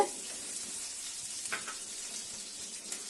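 Sesame seeds roasting dry in a pan until golden brown, a faint steady crackling sizzle with a few soft stirring scrapes, with no talking.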